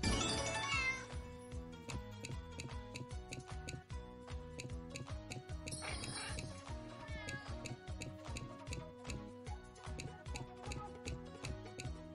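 Electronic cat meows from a Jili cat-themed slot video game ring out over bright, rhythmic game music and ticking chimes, repeating throughout.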